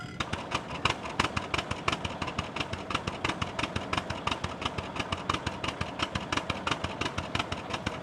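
A 1919 Austin vintage tractor engine runs at a steady idle, a fast, even clatter of firing pulses at moderate loudness, with no one talking.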